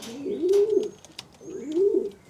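Racing pigeons in a loft give two low, rolling coos about a second apart, close and clear, with faint fluttering and scratching around them.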